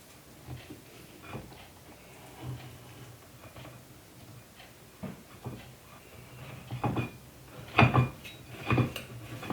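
Gluten free coconut custard pie, chilled with a thick crust, being cut and served: scattered clinks and taps of a utensil on the dish, growing louder and sharper toward the end, with no talking.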